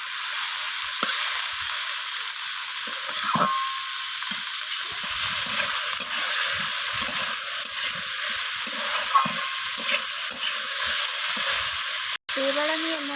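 Cauliflower fries with spices, tomato and ginger in a pan, a constant bright sizzle broken by repeated scraping stirs of a spoon; a short clatter near the end.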